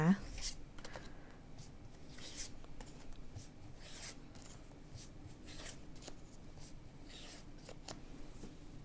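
Tarot cards rustle and shuffle softly as they are handled and picked from a deck, a steady faint papery scraping with occasional light taps, quiet and close.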